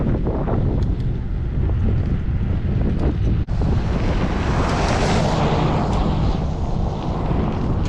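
Heavy wind buffets the microphone of a cyclist riding on a Cooke County, Texas road, a loud continuous roar with gusts swelling and fading, no voices.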